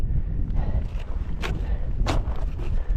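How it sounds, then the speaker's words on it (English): Wind gusting during a winter climb in -15°C cold, a constant low roar buffeting the microphone with a couple of brief sharper rushes, loud and close, with no talking. "it's getting windy"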